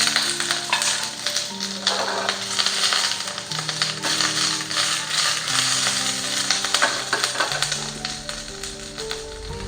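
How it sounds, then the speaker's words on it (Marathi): Capsicum frying in oil in a small tadka pan, a loud, continuous crackling sizzle up close with bursts of spattering and occasional scrapes, no voices over it. "शिमला मिरची आपली थोडीशी अशी फ्राय झालेली आहे"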